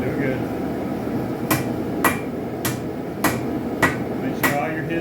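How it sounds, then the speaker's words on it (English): Hot steel struck on an anvil while forging a spike knife: six sharp, evenly spaced hammer blows ringing out over a low steady roar. "Start hammering as fast as you can."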